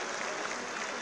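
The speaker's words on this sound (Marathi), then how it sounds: "एकदा जोरात टाळ्या वाजवून आपण स्वागत केलं पाहिजे" Loud, dense applause from a large crowd at a political party convention, a continuous wash of many hands clapping at once with no gaps.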